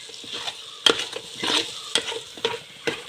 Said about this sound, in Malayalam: സവാളയും തക്കാളിയും ഒക്കെ ഇപ്പം വഴറ്റുക ചിക്കന് വേണ്ടി.